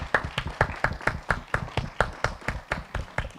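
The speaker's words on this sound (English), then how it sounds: "join me in giving them a round of applause" A small audience at a church faith forum gives a round of applause, heard as a light, evenly spaced run of claps that sounds like a few people clapping together.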